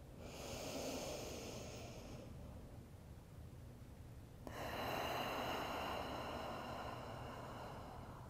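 Deep yoga breathing, with a long inhale and a slow exhale alternating, both close and soft against quiet background hiss.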